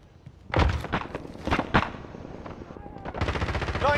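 Rapid automatic gunfire in the video game Call of Duty: Modern Warfare, loud close bursts of shots with thuds and a sustained stream of fire toward the end, under a player's voice.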